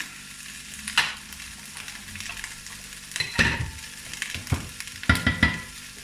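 Steady sizzling of sweet and sour chicken frying in a big frying pan over medium to high heat, with occasional scraping and stirring clatters breaking through the constant hiss.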